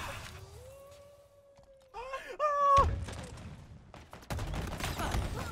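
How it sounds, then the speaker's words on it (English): Gunfire erupts from behind in Halo Infinite as rapid bursts of shots, loud and close, breaking in after a stretch of tonal game effects and repeating in a second volley. "somebody was shooting me from behind"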